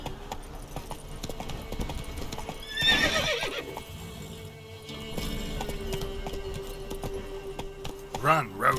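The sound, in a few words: Geralt's horse Roach galloping in video game The Witcher 3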